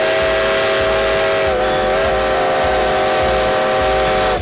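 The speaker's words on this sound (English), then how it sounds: "There is no better feeling than standing face to face with a howling steam train." A vintage steam locomotive on America's oldest railroad to Alaska sounds a long, loud howling whistle right up close, held steady over the rumble of the train for several seconds before cutting off.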